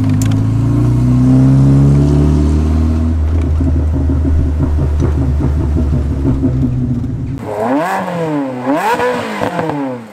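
A 1985 Morgan 4/4 engine revs and accelerates loudly up close, a steady deep drone climbing in pitch through rising harmonics, then swelling in repeated surging revs near the end.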